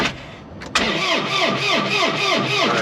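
Yanmar 235C tractor diesel engine cranking in freezing cold, about -1 degree, a close, loud rhythmic starter churn with a steady repeating pulse that does not catch and start.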